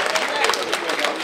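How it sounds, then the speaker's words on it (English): A crowd at a community union fundraiser claps steadily, a loud and dense wash of applause with some murmuring voices mixed in. "I said clap for Jesus."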